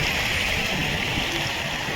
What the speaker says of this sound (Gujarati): હજી આટલું પાણી જાય છે ડેમ ઉપરથી